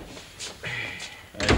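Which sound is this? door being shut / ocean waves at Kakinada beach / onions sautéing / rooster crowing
door being shut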